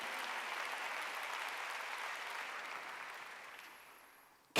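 A church congregation claps through a sermon, a broad steady patter of many hands that fades out near the end before a brief sharp sound cuts in, heard at moderate distance.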